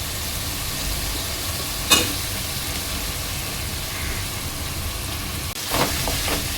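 Beans, pumpkin and brinjal dropped into sizzling masala in a pan for a Koli-style prawn curry, with a steady hiss of frying, a brief clatter as vegetables go in and a later stirring rustle.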